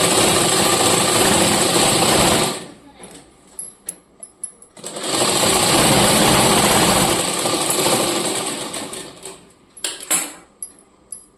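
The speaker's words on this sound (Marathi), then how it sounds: "तर याला आपण शिवून घ्यायचा." A sewing machine stitches four-inch tucks into a blouse, running loud and steady for about two seconds, pausing amid small clicks and taps, then whirring again for a longer stretch before more light handling knocks.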